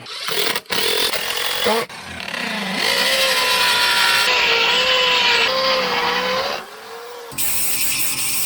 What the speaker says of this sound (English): I have to back cut this first board 5 degrees